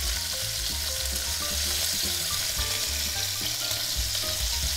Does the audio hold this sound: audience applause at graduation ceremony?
no